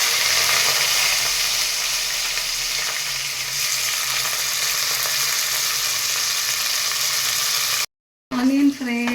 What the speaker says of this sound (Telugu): ఆయిల్ వేడెక్కాక చెక్క, బిర్యానీ ఆకు, షాజీరా వేసేయాలి. ఆనియన్ కూడా వేసేసేయాలి.